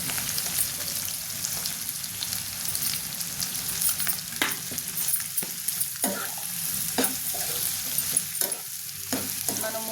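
Chicken liver sizzling and frying in a pan with ginger garlic paste, a steady close crackle with occasional sharper spatters and stirring clinks, no talking.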